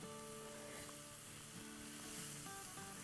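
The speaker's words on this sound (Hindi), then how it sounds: "हाई फ्लेम पे हर चीज़ सिजलिंग साउंड के साथ मज़ा आता है" Chow mein ingredients sizzle on a high flame with a steady, bright frying hiss. A faint tonal hum runs underneath, and no one talks.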